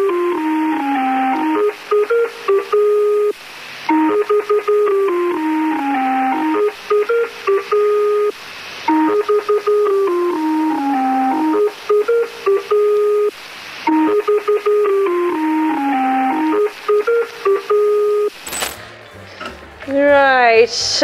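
Lincolnshire Poacher interval signal of a numbers radio station, the folk melody played in thin electronic tones and looped several times, loud and steady, followed by a short burst of warbling radio noise at the end.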